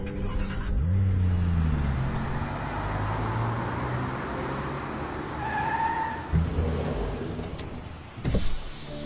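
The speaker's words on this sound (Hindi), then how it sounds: "गाड़ी चलाओ।" A car driving off in a dubbed film scene, its engine droning steadily and close, shifting in pitch, with a couple of thumps and a rising surge near the end.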